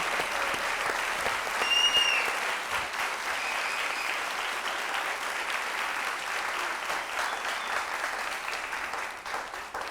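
A quiz show studio audience claps at length in a broad, steady wash that swells slightly early on and then holds at a constant level.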